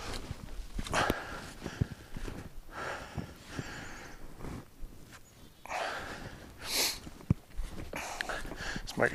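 Dogs sniff, snort and move about outdoors on a daily walk, with brief scattered barks and rustling footsteps close by under steady background noise.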